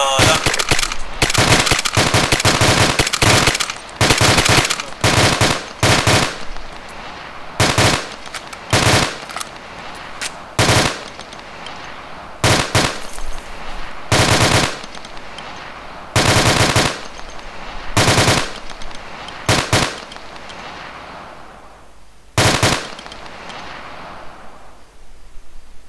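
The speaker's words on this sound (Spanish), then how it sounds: "Está disparando desde el complejo, desde el edificio 2." Automatic gunfire fired from a building in the military video game Arma 2, loud repeated bursts of varying length separated by short silences, fading toward the end.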